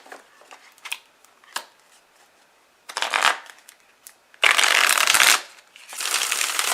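Playing cards being shuffled in a tarot-style reading, first as a few light riffles and taps, then two loud, dense riffle shuffles close to the microphone, with no talking.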